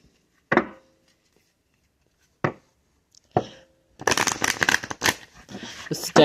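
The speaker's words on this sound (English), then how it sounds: "let's go ahead and give these a good shuffle" Cards being shuffled: a few separate riffles with pauses between, then a longer run of rapid flapping and rustling, close and crisp.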